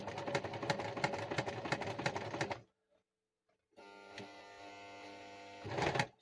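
A sewing machine stitching a junk journal cover runs with a rapid mechanical chatter, stops for about a second of near silence, then hums and clatters again, close by.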